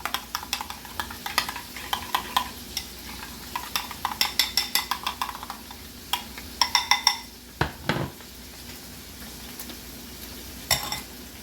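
Chicken pieces get mixed around in a marinade, a series of soft close clicks and wet scrapes in irregular bursts, with a louder knock partway through and no talk.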